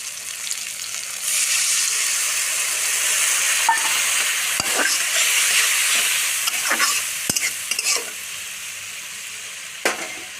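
Rohu fish curry with tomato and spiced water being stirred in a pan, a continuous close sizzle broken by scattered utensil scrapes and two sharp knocks against the pan.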